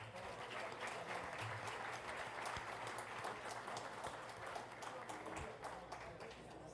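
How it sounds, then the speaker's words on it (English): An audience at a Ramadan iftar hosted by the Turkish American Center applauds performers, including an orchestra and whirling dervishes, with a loud, sustained wash of clapping that carries on steadily throughout. "If you can please give all of them a round of applause."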